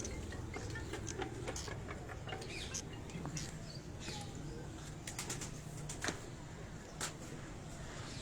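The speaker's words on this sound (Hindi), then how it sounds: "इधर से ये कबूतर उड़ाते हैं" Flying pigeons kept by a fancier on a rooftop in Kasur, soft low cooing under a steady outdoor hum, with scattered sharp bird calls and occasional wing flaps.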